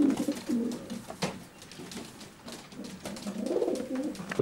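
Racing pigeons coo inside a loft in repeated soft, throaty calls that overlap and swell, fairly close, with light rustling and no talk.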